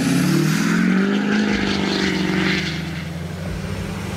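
A Duramax L5P diesel pickup tuned to level 5 power drives at speed, its steady engine drone and road roar loud and continuous, easing slightly toward the end.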